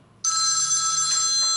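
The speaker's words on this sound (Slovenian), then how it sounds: "Oh, telefon. Spet me kliče." A telephone bell rings with a sudden, loud, bright electronic trill that starts abruptly and holds steady, close and alone with no voices over it.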